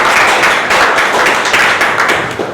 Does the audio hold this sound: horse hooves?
no